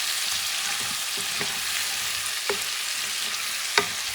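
Corn stirred into a pot of bison stew with pumpkin pieces gives a steady hiss of cooking, broken by a few sharp spoon clinks against the pot.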